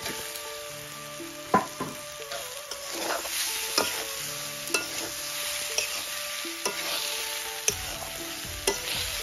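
Mashed potato samosa filling frying in a pan with turmeric, stirred in repeated scraping strokes over a steady soft sizzle, each stir a sharp knock roughly every second.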